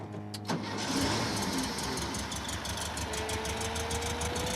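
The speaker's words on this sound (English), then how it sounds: "All right, well, let's fire it up." A Volkswagen engine fitted with a new fuel pump, battery and starter cranks briefly, catches and settles into a steady idle, heard up close with no talk over it.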